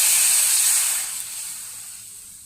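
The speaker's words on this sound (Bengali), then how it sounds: "কড়াই আমি জল দিয়ে দিচ্ছি।" Water poured into a hot wok hisses and steams loudly at first, then the sharp hiss gradually fades as it settles.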